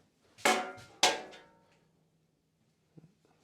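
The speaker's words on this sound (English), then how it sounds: "Screwdriver" A screwdriver clanks against the metal of a Laguna bandsaw in two sharp, close metallic knocks that ring briefly and decay, followed after a pause by a couple of faint taps.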